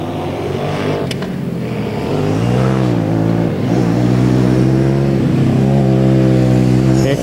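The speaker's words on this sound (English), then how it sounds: "And we'll very shortly see our third car out on track." A Formula Student race car at an endurance event in Germany, its engine droning loudly and steadily with rising and falling pitch as it drives on the track, a continuous close roar.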